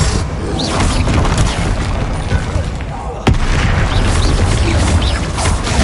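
A Bombarda explosion spell in Hogwarts Legacy lands amid a hectic fight, booming loudly with one sharp crack midway over a constant roar of combat, while a voice talks in the background.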